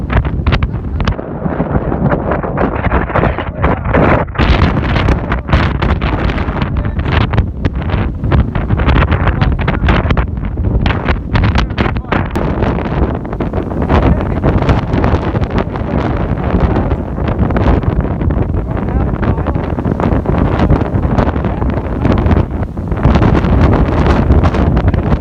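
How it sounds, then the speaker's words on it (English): Strong 50-60 mph wind on a mountain near the summit roars continuously into the microphone, loud, rough and gusting for the whole stretch with no break. "it's windy as hell as it is. Can't hear myself talk, can't hear myself think."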